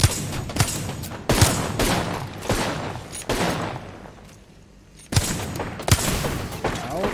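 Rapid gunfire bursts from an online ranked shooter match, loud, close automatic volleys with short pauses and a brief quieter gap before firing resumes.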